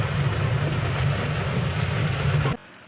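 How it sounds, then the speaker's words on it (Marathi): Heavy rain pours down in a steady, dense hiss, loud and continuous, then cuts off abruptly near the end. "काय दिसत नाही असा पाऊस पडतोय."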